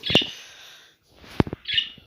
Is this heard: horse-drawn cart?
no